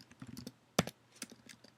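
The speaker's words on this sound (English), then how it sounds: "so I'm going to type diamonds." Fingers type a short word on a computer keyboard, a quiet run of quick, uneven clicks with one sharper, louder keystroke near the middle.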